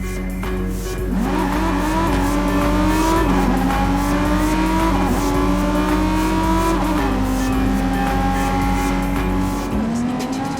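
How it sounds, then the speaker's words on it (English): A car in the video game Watch Dogs 2 drives across the Bay Bridge. Its engine drones loud and steady, rising in pitch through several gear changes, with no talking over it. "We can get there by driving across the Bay Bridge together."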